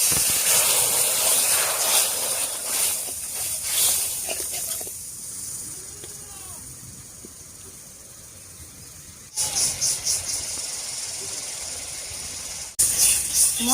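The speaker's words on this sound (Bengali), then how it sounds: "এবার মশলা বাটা জল দিয়ে খুব ভালো করে কষিয়ে নেব।" Spice paste frying with water in a pan for a Bengali magur fish curry, a loud steady hiss and sizzle close by, dipping partway through then surging again.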